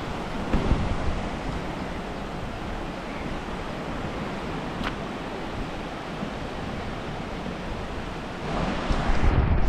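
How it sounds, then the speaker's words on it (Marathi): Surf rolling in on Tarkarli beach on a morning of high waves, a steady broadband wash that swells louder near the end, with some wind noise on the microphone. "बघू शकता समुद्राच्या लाटा खूपच वाढल्यात सकाळी।"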